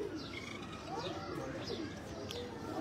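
Breeder pigeons in Faisalabad coo softly in a few low repeated calls, faint against background noise and distant chatter.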